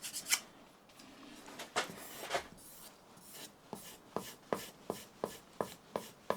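A hand plane blade is honed on a sharpening stone: quiet scraping strokes, a few irregular at first, then a quick, even run of about eight short rubs.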